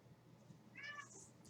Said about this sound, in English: I just had a cat jump in my lap and run across under the table to the other chair